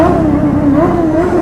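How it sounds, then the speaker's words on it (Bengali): A superbike engine revs loud and close on a busy highway, its rising and falling drone wavering over a rumbling road background. "এই দেখো সুপার বাইক বুম বুম চলতেই রয়েছে।"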